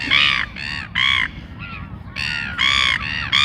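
Seagulls give harsh, repeated calls in quick bursts, several squawks in a row with short gaps, loud and close, over faint background traffic.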